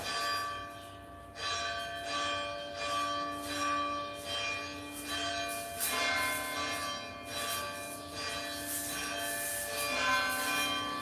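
Church bells ring in a repeating pattern, strikes coming closer together as the peal speeds up, moderately distant and steady for about eleven seconds with no voices.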